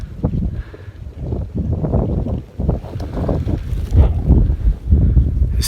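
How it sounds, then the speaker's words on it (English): Gusty wind buffets the microphone on an open hill in uneven, close bursts that rise and fall, fading to quieter lulls between gusts. "this wind that's been whipping around all day, just dying down to nothing right now"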